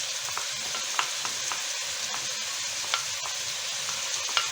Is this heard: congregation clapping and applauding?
no